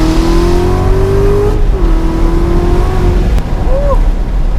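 A Corvette Z06 pulls hard in second gear, its engine note climbing steadily in a loud, continuous rising drone with a brief shift-like dip midway, close and dominant throughout.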